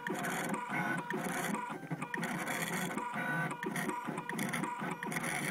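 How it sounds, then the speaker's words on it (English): A Gravograph engraving machine cuts a large, detailed logo, producing a steady mechanical whir with rapid, evenly repeating pulses that run on without pause at close range and moderate loudness. "And we're still engraving."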